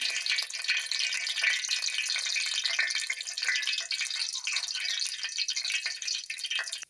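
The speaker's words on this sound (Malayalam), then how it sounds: "നമ്മുടെ കടുകൊക്കെ ഇവിടെ പൊട്ടിയിട്ടുണ്ട്." Mustard seeds sputter in hot coconut oil with a constant dense crackle and hiss, close and fairly loud, with no voices.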